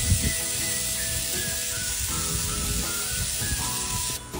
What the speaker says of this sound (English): Let's hear it sizzle.